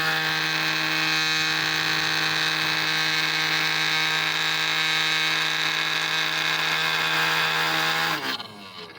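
A Chinese drill press with a 1/8 inch bit on thin 1/16 inch aluminium sheet whines with a steady, loud motor hum for several seconds, then spins down abruptly near the end, with no talking.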